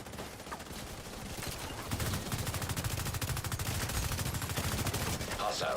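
Rapid automatic gunfire in a video game battle, a steady, dense stream of closely spaced shots that grows louder and continues almost without a break. A player talks over it now and then.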